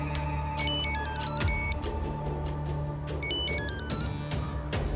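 A telephone ringtone repeats in short electronic melodic bursts over a steady background hum, signalling incoming calls in a shop setting, with no talking.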